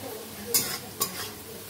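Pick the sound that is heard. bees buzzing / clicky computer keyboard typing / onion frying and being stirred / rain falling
onion frying and being stirred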